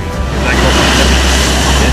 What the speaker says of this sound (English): the wind, the tide, the waves all joined forces to slice away at the cliff edge